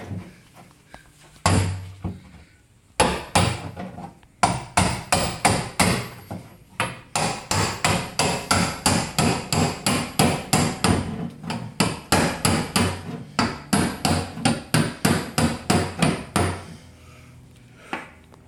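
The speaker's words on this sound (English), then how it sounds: "Chipping away Bondo." A hammer drives a chisel to chip Bondo body filler off a Honda Accord's quarter panel, with loud, close, rapid metallic strikes in quick rhythmic bursts and short pauses between runs.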